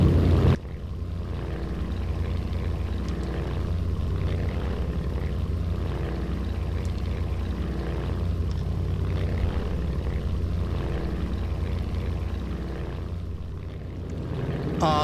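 Simulated F4U Corsair propeller fighter in the AeroFly FS2 game, a steady droning engine hum with a rhythmic pulsing throb, continuous and moderately loud throughout.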